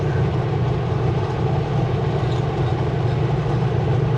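A loaded coal train passes nearby as a steady, loud rumbling roar with a continuous low-frequency drone, heard alone with no voices over it.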